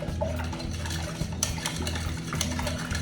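Butter stirred into a sourdough mixture in a bowl, a steady wet scraping and sloshing with a low hum underneath, no talking.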